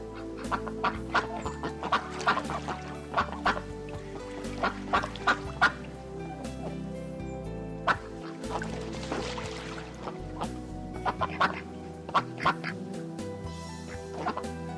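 Ducks quack repeatedly in short bursts over steady background music, with some clucking fowl mixed in, moderately loud throughout.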